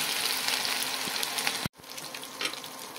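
Oil sizzling and crackling steadily in a hot pan while cooking sweet corn pakodas, a dense hiss with small pops, cut off abruptly by a brief silence before the frying resumes slightly quieter.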